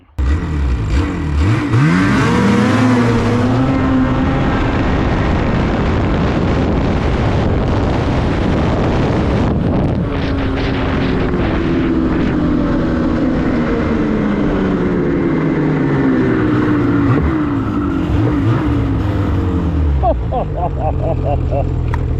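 A snowmobile sled fitted with an ULTIMAX belt races down a drag track, its engine roaring loud and close with rising and falling revs throughout, and a voice is heard faintly over it.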